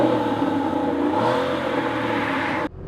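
An Aston Martin Vanquish Volante revs up from standstill with a rising, throaty roar, exhaust valve closed, then cuts off abruptly near the end.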